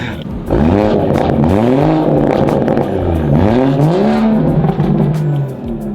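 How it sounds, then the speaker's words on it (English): A modified BMW 340i with a B58 turbo engine, aftermarket intake and downpipe, revving up and down repeatedly, with rising and falling engine tones and a turbo whistle up close. "I love the turbo whistle, dude."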